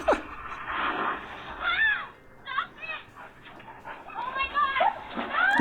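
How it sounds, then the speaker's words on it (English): Several dogs bark in short bursts at a doorbell camera as they try to chase a skunk, fairly close, mixed with whimpering and people reacting in the background. "She couldn't control her dogs that wanted to chase the skunk."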